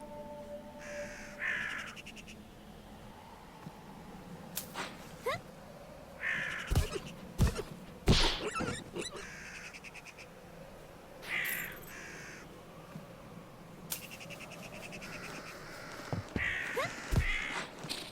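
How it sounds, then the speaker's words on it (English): Birds cawing in the Phoenotopia video game, harsh crow-like caws in repeated bursts spread across the stretch, some loud and close, over quiet game ambience and a few light footsteps. "Don't worry about all these birds."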